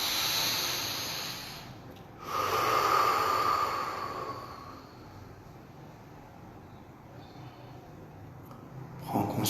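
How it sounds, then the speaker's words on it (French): Slow, deep breaths taken during a guided meditation, heard as a long airy exhale followed by a soft inhale and another rising breath near the end, close and gentle over a faint steady hiss. "Prenez vos 2 respirations profondes."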